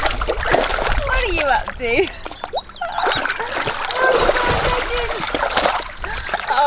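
A pony splashes and sloshes water in a paddling pool, with irregular nearby splashes and slops while someone talks to it.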